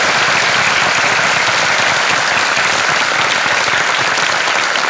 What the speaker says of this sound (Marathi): त्यांच्यासाठी परत एकदा जोरदार टाळ्या वाजवा